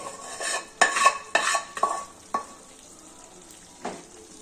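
A spoon stirs caramel semiya kheer made with milk in a pot, producing several distinct scraping, clinking strokes up close, then a pause and one last stroke, with no voices.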